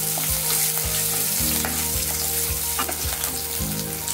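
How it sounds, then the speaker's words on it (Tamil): Cashew nuts fry in hot ghee in a pan while making rava idli, a loud, steady close sizzle with periodic scraping stirs, no talk. "இந்த நெய்யிலே வந்து நல்லா இது கொஞ்சம் வறுபடட்டும்."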